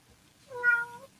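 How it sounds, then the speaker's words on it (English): A cat gives a single clear meow, rising and falling over about half a second, close by and alone against a quiet room. "even Kitty's like, meow"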